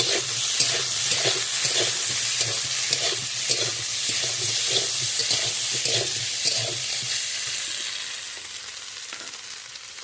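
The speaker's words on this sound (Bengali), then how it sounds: "এবার আরেকটু সুন্দর করে ভেজে নিতে হবে" Hilsa fish head frying with taro greens and turmeric in a pan gives a steady close sizzle, with rhythmic scraping stirs of a spatula repeating about twice a second before quieting toward the end.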